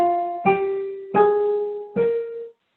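A C natural minor scale is played note by note on a pitched instrument: four sustained tones, each struck with a clear attack, pausing between each one, clean and close with no talking.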